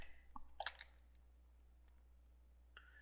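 A short flurry of quiet clicks from a computer keyboard, followed by a single stray tap after a pause, faint and close with no voices.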